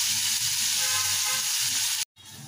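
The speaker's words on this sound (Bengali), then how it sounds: "পেঁয়াজটা হালকা করে ভেজে নিয়েছি" Chopped onions fry lightly in hot oil, giving a bright, continuous, close sizzle that drops out for an instant near the end before resuming.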